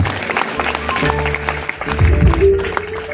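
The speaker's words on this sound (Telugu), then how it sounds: "చప్పట్లు కొడదామా" Audience clapping at a Telugu Christian gathering, a dense, steady patter of many hands lasting a few seconds, with a low hum and a few voices underneath.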